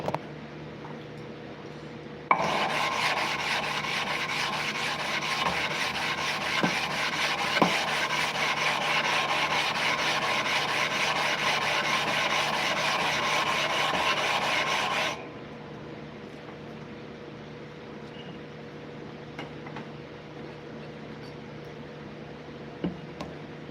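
Blade rubbed on a 1000 grit sharpening stone, a steady close gritty rasping hiss running about thirteen seconds before stopping abruptly, with a quiet hum before and after.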